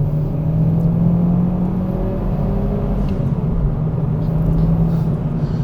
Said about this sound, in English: It's got a lot of turbo lag, as you'd expect of an old school 2-litre forced induction unit